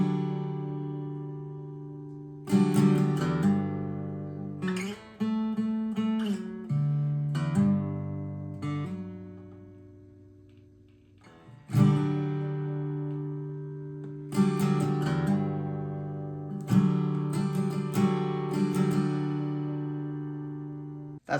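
Acoustic guitar playing the intro to Zach Bryan's Starved, fingerpicked and strummed phrases in several bursts with short pauses between, close and clear, no voices.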